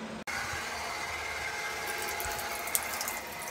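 Water running from a household tap at low pressure, a steady hissing flow heard close and alone after a brief click at the start, with a faint tap near the end.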